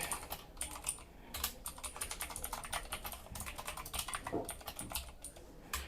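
Fast, steady typing on a computer keyboard, dense clicking keystrokes rattling continuously, close and quiet with no talking.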